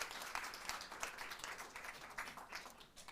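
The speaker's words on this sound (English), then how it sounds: "Can you just offer another round of applause?" An audience breaks into a round of applause at an evening talk event, dense scattered clapping sustained throughout, fairly faint and distant with no voices over it.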